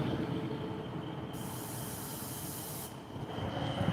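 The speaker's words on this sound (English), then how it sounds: "Did you hear the truck spray?" A truck lets out a sustained hiss of released air lasting over a second, steady and fairly loud against a constant rumbling background.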